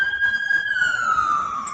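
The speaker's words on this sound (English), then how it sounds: "Stupid sirens." A wailing emergency siren from outside, a steady high tone gliding slowly downward, moderately loud and alone with no talk over it.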